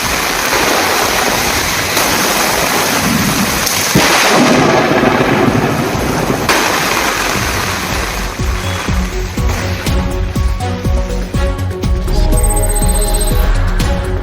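Heavy rain pours steadily during a thunderstorm in Chennai, a dense, loud, continuous roar with deep rumbling underneath that swells and shifts throughout, no voices heard.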